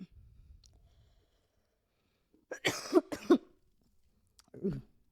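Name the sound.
coughing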